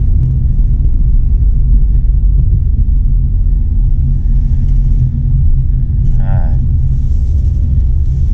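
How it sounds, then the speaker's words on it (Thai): A Toyota Veloz seven-seater with a 1.5-litre engine pulls away at half throttle, its steady low engine rumble loud and continuous throughout, with a brief higher tone near the end. "นี่ผมลองกับครึ่งคันเร่งนะ เนี่ยคันเร่งครึ่งเดียวนะครับ"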